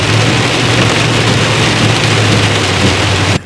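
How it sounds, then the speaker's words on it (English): Steady rain pours down outdoors during a coyote hunt, a loud, dense hiss with a low constant rumble underneath, continuous throughout before cutting off abruptly at the very end. "it's starting to rain on us"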